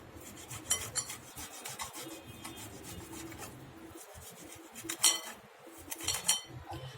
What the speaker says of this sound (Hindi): अभी हम इसमें आलू को सबसे पहले कद्दूकस कर लेंगे।